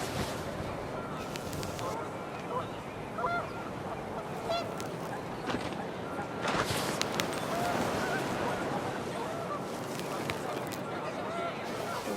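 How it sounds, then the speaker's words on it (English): Panicked geese honk repeatedly in the video game What Remains of Edith Finch, a busy flock heard over gusting wind and steady background noise. "The wind picked up, and panicked geese appeared and quickly went."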